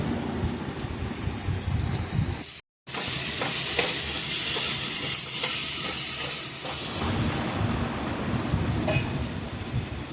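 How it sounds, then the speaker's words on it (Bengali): Poppy seed paste and spices fry together in a pan for a vegetarian doi potol, a loud continuous sizzle with scraping stirs throughout, broken by a brief silent gap early on. "এরপর নিয়ে নেওয়া হয়েছে পোস্ত বাটা সেটাও দিয়ে দেওয়া হলো সবকটাকে একসাথে একটু কষিয়ে নিতে হবে"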